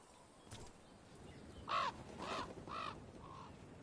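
A crow caws three or four times in Dragon Age: The Veilguard, close and fairly loud, the harsh calls coming in a quick run over a quiet ambient background.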